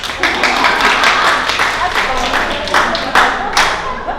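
A group in a training session room claps together, a dense, loud, steady patter of many hands lasting several seconds, with a few voices mixed in.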